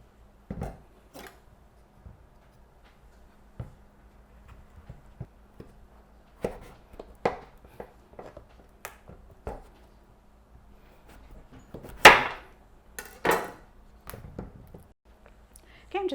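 A kitchen knife slices through a delicata squash lengthwise on a cutting board, giving several sharp close thuds and knocks, with a louder crunching split near the end.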